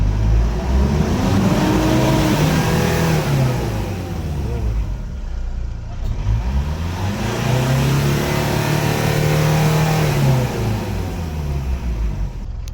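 Mitsubishi Montero engine with a check engine light and low power, revved twice in long rising and falling swells over a steady idle rumble, close and loud.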